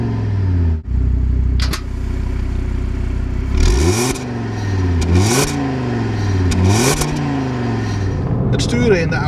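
An Audi RS 3 engine in sport mode revs repeatedly, with several rising and falling sweeps of loud, close exhaust note, preceded by a steady idle.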